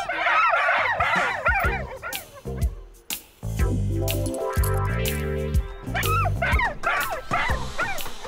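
Several dogs bark and yip loudly and close by, with repeated overlapping barks and some whimpering. Brief talk is heard between the bursts.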